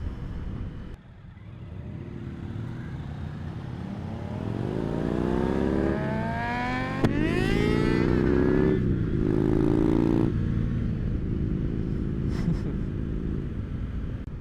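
A group of motorcycles, including Harleys, sport bikes and a Ninja 400, rides out toward Queensland Raceway, with a loud, close engine rumble that revs up through rising gear pulls and shifts over steady wind noise.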